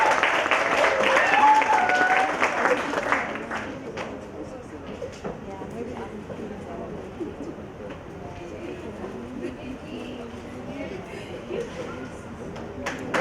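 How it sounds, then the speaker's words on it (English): An audience at a national launch event for a tertiary voter registration campaign gives a round of applause, loud at first and fading after a few seconds into murmuring and talk. "Round of applause."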